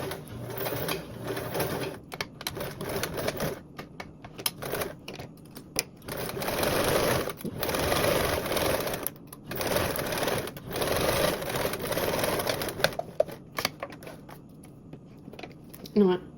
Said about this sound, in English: you're going to repeat with your other strap, sewing with that 1/4 seam allowance